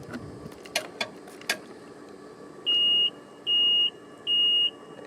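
A Ryobi RM480EX electric riding mower gives three evenly spaced, clear electronic beeps as its key goes into the ignition, following a few soft clicks and handling noises.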